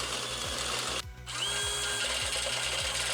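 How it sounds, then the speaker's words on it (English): A power drill steadily bores out the shock mounts during a van lift kit installation, whirring loudly and continuously at close range with one brief dip partway through, no voices. "So you just want to drill it out."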